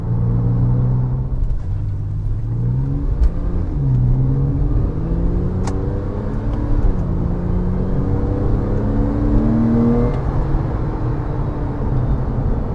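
A Porsche 997.2 Carrera S on a fast-road setup drives through corners, its engine droning steadily with rising and falling revs and constant road rumble heard from inside the car.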